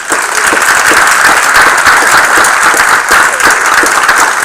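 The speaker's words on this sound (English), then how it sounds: "they deserve a round of applause" A council meeting audience gives a round of applause, loud, dense and sustained clapping from many people filling the room with no talk over it.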